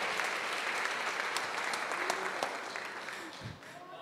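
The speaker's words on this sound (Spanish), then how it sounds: "Dale un aplauso para Dios en esa noche." A church congregation gives sustained applause during an evening worship service, a dense wash of clapping that tapers slightly toward the end, with a voice faintly audible beneath.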